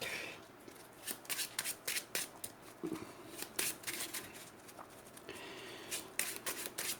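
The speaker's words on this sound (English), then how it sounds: "We shuffle in to the encounter deck." Marvel Champions game cards riffle and shuffle into a deck in quick bursts, close and fairly quiet, with soft papery slaps between the shuffles.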